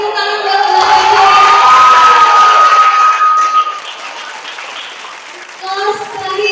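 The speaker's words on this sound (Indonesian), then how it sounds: "Oke, kasih tepuk tangan buat Pak Fajar." Applause and cheering from a class of schoolchildren for a contestant at a school quiz competition, loud and busy for about three seconds, then fading under a voice speaking.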